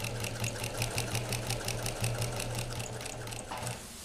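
A sewing machine stitches through a quilt in a quick, steady rhythm of needle strokes over a low motor hum, running continuously and close up with no talking.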